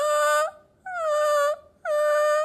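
A person imitates a crying dog with three long, loud wailing howls, each falling slightly in pitch and separated by short pauses, voiced close up with no other talk.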